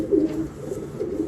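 A racing pigeon coos in a loft, giving low, throaty coos in a soft repeating rhythm, close by with no voices.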